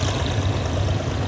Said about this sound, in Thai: เสียงเร่งเครื่องนี่มันมากสำหรับเจ้าปู่ GEK นะครับเครื่องยนต์คัมมินนะครับ